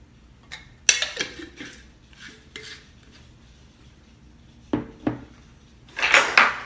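A spoon or fork clinks against a bowl while mixing apple crisp filling sweetened with honey, giving a few sharp scrapes and taps spread apart, with a louder clattering burst at the end.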